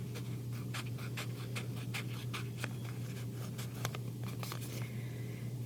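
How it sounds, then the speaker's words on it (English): Scissors cutting a craft foam sheet: soft, faint snipping and crinkling in short irregular strokes, close and quiet, over a steady low hum. "I'm going to cut down here."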